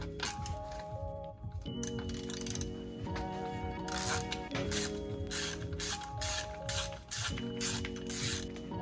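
Ratchet working a 13mm engine mount bolt loose on a VW Corrado G60, a steady run of close, rapid clicking bursts repeated in several strokes over faint background hum, with no talking.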